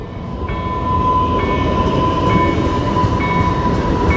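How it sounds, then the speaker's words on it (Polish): A train speeds past at close range, its loud, steady rumble carrying a sustained metallic whine and recurring high tones for the whole stretch, with no talking. "I jedzie pociąg."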